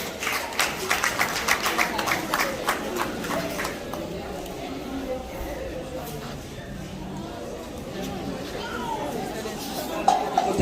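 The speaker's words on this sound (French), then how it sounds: "On va les applaudir pour leur chant" Parents at a nursery school end-of-year party clap for the youngest children after their song; a brisk burst of clapping fades after a few seconds into chatter and voices.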